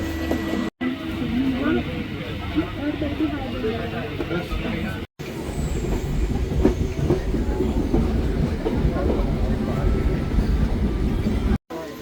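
A train on the Jaffna to Colombo line rumbles steadily along the rails with a continuous low roar and rattle, loud and close, with chatter from a crowded carriage mixed in.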